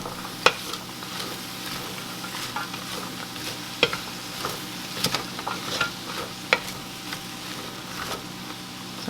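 Onions and cabbage cook under a lid in a pot, giving a steady low sizzle with a few scattered sharp ticks and pops. No one speaks.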